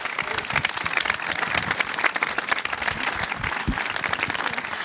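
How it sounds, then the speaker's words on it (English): Sustained applause from an audience at a live winery celebration marking the 40th anniversary of the Judgment of Paris at Chateau Montelena, a dense, steady wash of many hands clapping at close range with no one speaking. "I think we give Bo a round of applause."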